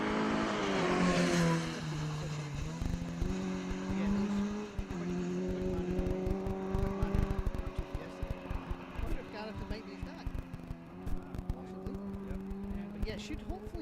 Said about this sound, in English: This beautiful new BMW. Sounds fit whatever's coming up the hill.